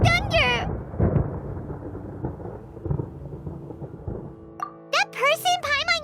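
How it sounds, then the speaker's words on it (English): Low rolling thunder rumbles through a Genshin Impact game scene while in-game characters speak over it, with high voiced lines at the start and end. "Paimon hears thunder!"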